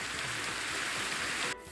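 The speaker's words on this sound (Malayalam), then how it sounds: "പുറത്ത് കാണുമ്പോൾ ഇതാ നല്ല മഴ ഉണ്ട്" Steady rain falling outdoors in the video game Minecraft, a continuous even hiss that cuts off abruptly near the end.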